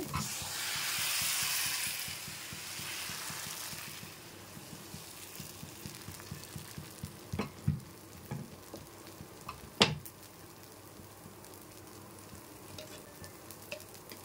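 Appam batter sizzles and hisses steadily in a heated appam pan, loud at first and then settling into a quieter crackle, with a few sharp clicks and taps of utensils.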